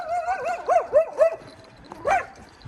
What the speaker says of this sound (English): Little dog.